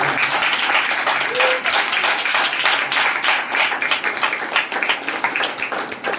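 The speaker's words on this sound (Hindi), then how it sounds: "एक जोरदार ताली पवित्र आत्मा की।" A church congregation claps loudly and continuously, a dense wash of applause with voices mixed in throughout.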